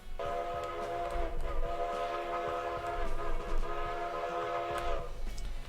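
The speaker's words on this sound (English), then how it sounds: "So that, I believe, is the NYC 5 chime." A NYC 5-chime steam locomotive whistle in the train game Railroader sounds one long, loud, sustained chord that holds steady for about five seconds over low rumbling, then cuts off.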